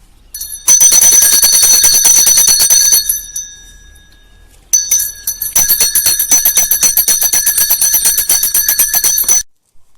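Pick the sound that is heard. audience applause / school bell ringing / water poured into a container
school bell ringing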